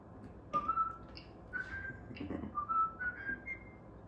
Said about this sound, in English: Thanks for whistling with us.